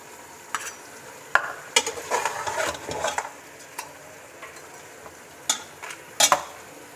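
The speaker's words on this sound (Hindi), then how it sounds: "लहसुन डालने के बाद अब हमने इसमें प्याज डालने हैं।" Onions sizzling in a pan with beef and garlic for a Peshawari Shinwari beef karahi, with a steady fry hiss and sharp scraping clinks of a stirring spoon against the pot, close and fairly quiet.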